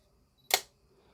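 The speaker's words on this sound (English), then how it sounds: "if you depress the shutter with the flash on automatic, the flash will pop up." A Canon EOS 700 film camera fires its shutter with the flash on automatic, a single sharp mechanical snap and brief whir in a quiet room.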